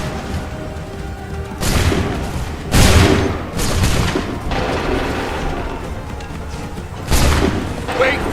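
Musket volleys from soldiers in Assassin's Creed III, several booming rounds of massed fire spaced a few seconds apart over a rumbling battlefield, with shouted commands in between.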